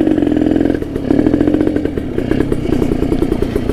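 A Kawasaki Ninja RR motorcycle engine revs loudly up close beside rice fields while warming up, its rough, rapid-firing rattle rising and falling in repeated bursts of throttle.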